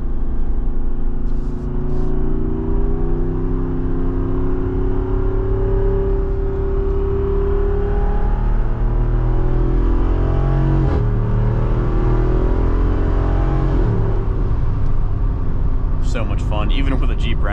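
A Jeep Wrangler Rubicon 392 drives through turns on a bumpy road, its engine a steady low drone with rising and falling revs, heard from inside the cabin under continuous talking.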